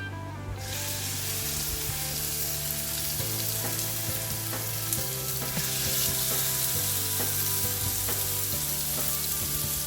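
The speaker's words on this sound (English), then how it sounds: "Right, so now we're going to put the patties." Homemade gourmet burger patties dropped into a hot pan, a sudden loud sizzle that holds steady and close, with a low steady hum underneath and no talking.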